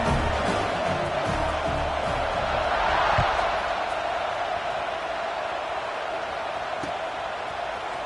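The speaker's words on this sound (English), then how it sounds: "this crowd is buzzing after that last score" A college football stadium crowd at Virginia Tech vs Washington keeps up a steady, distant roar and murmur after a score, a broad wash of noise under a commentator's voice.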